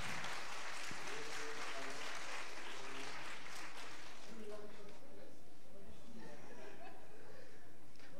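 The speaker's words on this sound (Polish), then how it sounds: "poprosimy o wielki aplauz dla naszych absolwentów tegorocznych" An audience at a student rock concert claps in sustained applause that fills the room, with scattered chatter and an announcer's voice emerging as the clapping fades.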